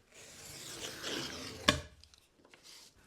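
Wood veneer is cross cut by hand for a small box project, a short raspy scrape that ends in one sharp snap, followed by a few faint taps.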